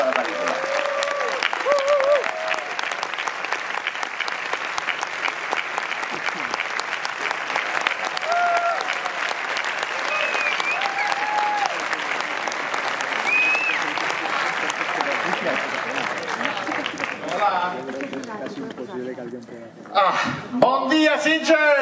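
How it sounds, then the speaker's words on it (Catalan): Audience applause at the Sitges festival for the Manetti Bros, Marco and Antonio, at the presentation of Diabolik: a long, dense wash of clapping with some cheering that fades out near the end, followed by brief sounds near the microphone. "Rebem amb un fort aplaudiment a los Manetti Bros, Marco Manetti i Antonio Manetti"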